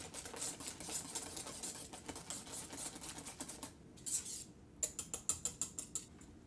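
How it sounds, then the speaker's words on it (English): Coconut cream pie filling is mixed by hand, a utensil clicking and scraping rhythmically against the bowl, then a series of sharp, evenly spaced taps near the end, close and fairly quiet. "I'll just mix this in."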